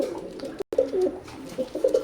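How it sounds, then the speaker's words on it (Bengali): A pair of Teddy pigeons of Oman bloodline coo softly in short, low murmuring phrases, close by, with a brief gap of silence early on. "এখন স্ক্রিনে যে কবুতর জোড়া দেখতে পাচ্ছেন"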